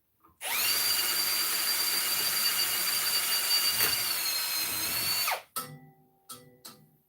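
A power drill runs in one continuous high-pitched whine for about five seconds, then cuts off, followed by a few short clicks and bursts of the motor.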